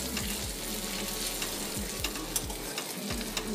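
Mustard seeds fry in hot oil in a kadai for a fish curry, giving a dense continuous sizzle dotted with sharp popping crackles and no speech.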